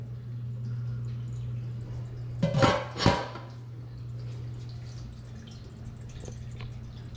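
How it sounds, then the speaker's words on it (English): Homebrew liquid poured through a hose resting at the bottom of a keg gives two short splashing gushes, close and fairly loud, over a steady low hum. "Got the hose down at the bottom, so I'm trying to minimize splashing"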